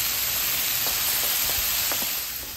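Seasoned meat for a stir-fry sizzles on a Blackstone griddle, a loud, constant hiss with a few faint pops, close by and without talking.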